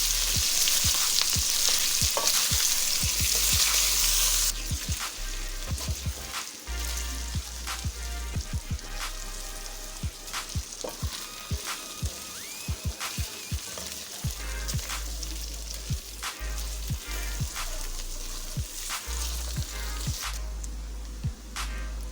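Small beef pieces fry in oil for achari gosht, a continuous crackling sizzle punctuated by frequent sharp spoon knocks and scrapes against the pot as the meat is turned.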